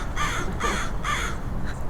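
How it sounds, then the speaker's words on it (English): A crow perched on a truck gives three loud, close caws in an even rhythm, followed by a fainter fourth call, with no talking. "crow on that truck"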